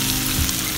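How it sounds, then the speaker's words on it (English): Gambas sizzling in a frying pan as they are stirred, a steady close hiss of hot oil with a soft scrape near the middle of the short burst. "So we give it a stir"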